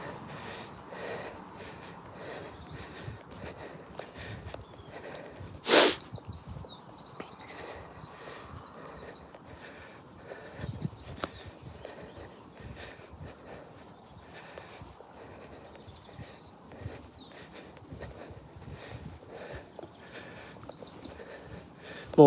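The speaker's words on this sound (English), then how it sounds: "More lovely bird song, guys." Birds sing and chirp outdoors on a rainy countryside walk beside a swollen stream near fields, scattered faint calls over steady ambient background, with a brief louder sharp sound near the middle.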